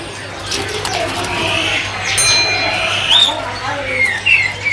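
A cucak ranting songbird from Sumatra chirps and whistles in short bursts at a kiosk in the Pramuka bird market, with other birds cooing around it and people talking nearby.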